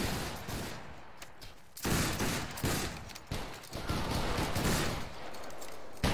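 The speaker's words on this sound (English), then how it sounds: "Company, make ready, take aim, fire." Musket volley fire in the video game Battle Grounds III, a line battle where a company fires together: several loud, ragged bursts of massed shots roll out one after another with no talk between them.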